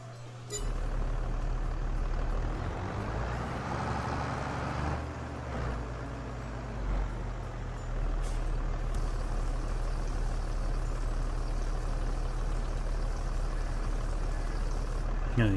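Steady low tractor engine drone in the Farming Simulator 22 video game, a continuous rumbling idle-like hum that holds level for the whole stretch with a brief hiss-like shift partway through.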